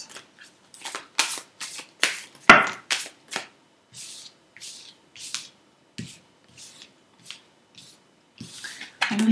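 Tarot cards shuffled and drawn by hand, a series of crisp riffling bursts and snapping flicks in an irregular rhythm, close and clear with quiet gaps between.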